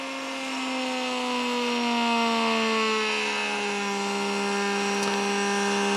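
A sensorless brushless DC motor with delta winding spins at high speed, a clear steady whine whose pitch drifts slightly lower as it runs, with a single faint click near the end.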